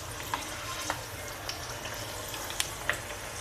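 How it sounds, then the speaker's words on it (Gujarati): Methi muthadi, spiced fenugreek dumplings, fry in medium-hot oil with a steady, close sizzle and bubbling, punctuated by a few faint clicks and pops. "આપણે મૂઠડી તળી લેવાની"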